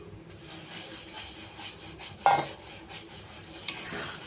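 Boiled moong dal and bottle gourd are stirred into cooked spices in a pan, soft wet scraping and stirring over a faint sizzle, with one sharp utensil clink near the middle and another toward the end.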